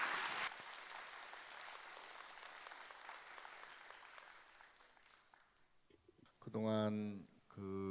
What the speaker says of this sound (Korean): 큰 박수로 고마운 뜻을 표하겠습니다